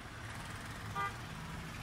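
Traffic passes along a city road opposite a park in Thrissur, a steady low rumble with a brief, faint car horn toot midway, heard from some distance.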